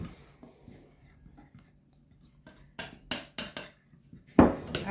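Flour, baking powder and salt for a pie crust are stirred in a bowl, giving quiet scattered scrapes followed by several sharp clinks and knocks of a utensil against the dish, loudest near the end.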